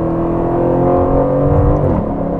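A 2019 Aston Martin Vantage engine pulls hard under acceleration, a loud, close, continuous roar with rising pitch that eases off near the end, and no talking.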